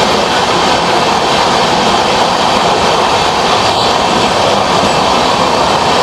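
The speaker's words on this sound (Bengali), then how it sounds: "ট্রেন এখন আমাদের 11 মিনিট লেটে চলছে" The Tamralipta Express from Howrah to Digha runs steadily along the track, a loud continuous rumble and rattle of the moving carriages heard from inside, with no talking.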